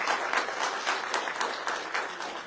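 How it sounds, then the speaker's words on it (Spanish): A church congregation at a Sunday service applauds, steady dense clapping from many hands filling the room, sustained evenly throughout. "Un aplauso para nuestra hermana."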